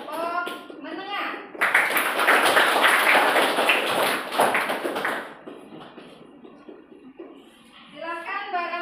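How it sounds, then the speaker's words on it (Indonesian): Children in a classroom clap together for a group, a burst of dense applause lasting a few seconds, framed by a teacher's voice before and after. "tepuk tangan untuk kelompok menengah"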